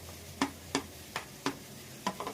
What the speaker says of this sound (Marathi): कॉर्न 2 मिनिटासाठी फ्राय करूया।